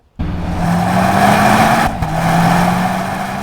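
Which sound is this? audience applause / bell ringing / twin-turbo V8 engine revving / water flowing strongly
twin-turbo V8 engine revving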